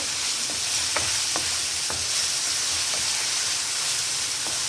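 Curry leaves sizzle in hot oil for a masala corn sabzi, a loud continuous hissing fry with a few light spoon taps against the pan, no talking.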